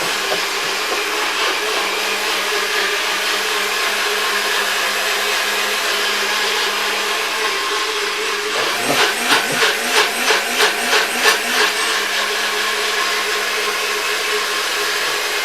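A kitchen blender whirs steadily while mixing a honey drink, a loud continuous motor drone that shifts partway through into a pulsing, chopping rhythm as the contents churn, with no voices.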